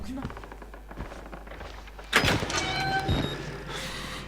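A door in the video game Outlast slides and thunks open midway, a loud scraping surge followed by a rattling, resonant tail, after quieter ambient sounds and faint muffled talk.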